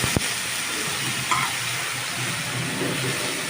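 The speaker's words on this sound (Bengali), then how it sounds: "এবার আমি পেঁয়াজটা টেনে নিয়ে সঙ্গে ভেজে দেব।" Onion frying with boiled Malabar spinach in a pan gives a steady, close crackling sizzle, with a soft stir scrape near the middle and no talking.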